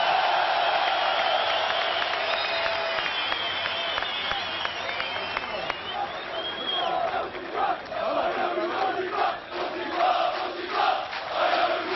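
Applause and crowd noise from an audience at a football player signing ceremony, a dense steady wash of clapping with some cheering, fairly loud and continuous throughout.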